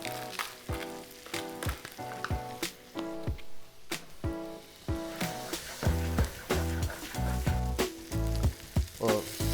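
Garlic sizzles in a pan for paella, a steady close frying crackle interrupted by stirring scrapes and clatter, with no talking.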